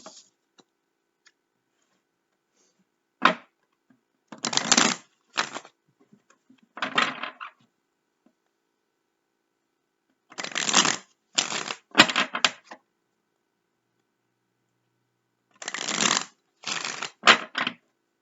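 A deck of cards is shuffled by hand in short riffling bursts, clustered in three groups with silent gaps between, close and fairly quiet, no speech.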